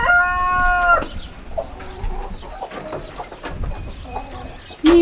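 Chickens calling nearby: a sustained crow-like call at the start, then scattered clucks and short squawks, with a loud call at the very end.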